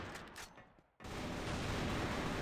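Sniper rifle fire in the CrossFire shooter game: dense, sustained gunfire fills the scene after a brief dip, loud and continuous rather than single isolated shots.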